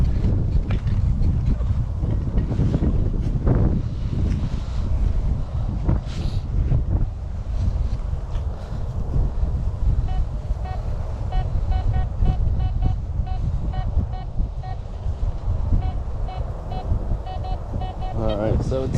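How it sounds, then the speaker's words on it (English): Gusty wind buffeting a microphone in an open farm field during metal detecting, a steady low rumble running throughout with talk over it. "I'm sure you guys can hear that wind."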